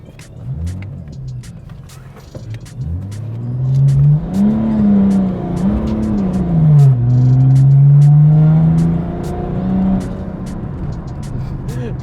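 A BMW M3 E93 convertible with welded-on M3 rear wings accelerates hard, its engine revving and rising in pitch before it loses grip and spins out, the loud, close roar rising and falling over a rumbling background.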